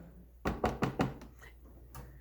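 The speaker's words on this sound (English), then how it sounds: "And there's a knock on the door." Knocking on a door in an opera recording of La Bohème: four quick firm raps in a row, then two fainter taps, heard alone and fairly quiet.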